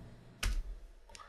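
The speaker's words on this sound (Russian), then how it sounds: "просто нажимаем клавишу Del" A single Delete key press on a computer keyboard, made while numbering pages in Word, gives one crisp close click followed by a fainter second tap in an otherwise quiet room.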